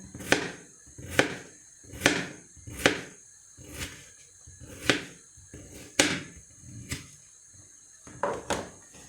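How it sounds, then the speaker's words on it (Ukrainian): A knife chops through potatoes on a board in steady, sharp strokes, about ten knocks evenly spaced, close and clear with no talking. "Картопельку я нарізала дрібнесенько"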